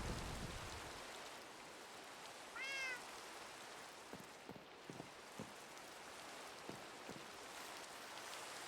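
Minecraft rain falls as a faint, continuous hiss, with a brief cat meow rising over it early on and a few soft taps scattered through the rest.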